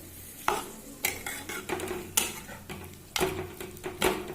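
Olive pickle is stirred with salt in a wok, with repeated scraping strokes of a metal spoon against the pan and sharp clinks roughly every half second, close up and with no talking.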